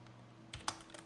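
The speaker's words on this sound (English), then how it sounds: "we can type wiggle" Several quick key presses on a computer keyboard, a few soft clicks with one sharper tap in the middle, close and quiet against a low hum, no voices.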